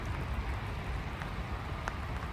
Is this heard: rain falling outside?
yes